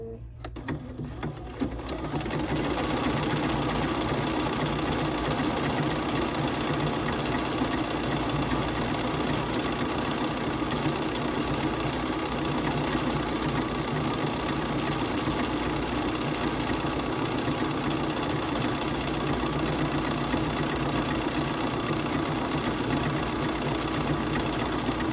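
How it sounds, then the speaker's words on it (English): A BERNINA 570, 590 or 790 sewing machine stitches a decorative stitch in a steady, fast mechanical whirr and clatter that runs on without a break after a brief start, close and even. "Now I'm going to stitch it out."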